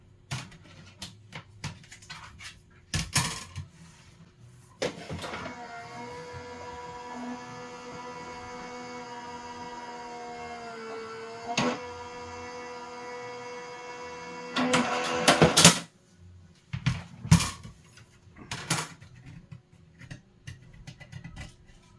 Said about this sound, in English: I'm just going to run this through my electric machine so it's faster.